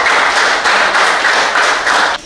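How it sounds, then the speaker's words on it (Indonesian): Classroom applause after a student group's trigonometry presentation: a steady, dense patter of many hands clapping close by, continuous for about two seconds before cutting off. "berikan tepuk tangan ya"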